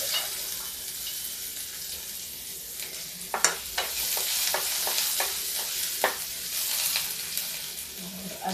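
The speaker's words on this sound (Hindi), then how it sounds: "अब ये देखिए इसमें हम डालेंगे ये प्याज जो हमने लगाया।" Onions go into hot tempered oil with cloves for a pumpkin sabzi and fry with a steady sizzle, while a spoon stirs through them in sharp clinks and scrapes up close.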